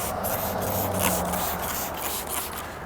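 Rapid Tack cleaner hisses steadily from a spray bottle onto a car window with a close, continuous rush, with light rubbing texture under it.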